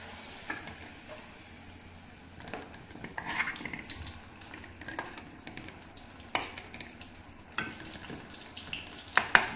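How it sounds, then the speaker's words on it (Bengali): Besan-coated chili fritters frying in oil in a kadai give a soft, steady sizzle with scattered crackles and occasional louder spits and pops, heard alone. "ব্যাস কোট করে এই কড়াইয়ের মধ্যে এভাবে ঢেলে দিতে হবে।"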